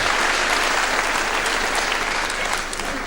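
Crowd applauding at a wrestling match at the Elmbridge Leisure Centre, a dense, loud, steady wash of clapping from a full hall, lasting throughout and tapering slightly at the end.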